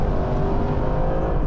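Mercedes engine roaring steadily under hard acceleration, a loud, continuous low growl from inside the car with no talking over it.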